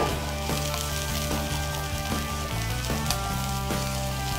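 Onions go into a hot pan with a little oil and hiss in a steady, loud sizzle that fills the whole stretch, with faint clinks and taps over it.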